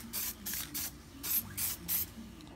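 Short, close hissing bursts of spray paint lay a light coat onto a Stampede RC car body, about six even puffs in a steady rhythm over a low background hum.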